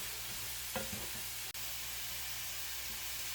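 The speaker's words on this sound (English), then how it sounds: "now that my pork, onion, and garlic has fried for a while" Pork, onion and garlic frying in a pan give a steady, faint sizzling hiss throughout, with a couple of soft stirring scrapes early on.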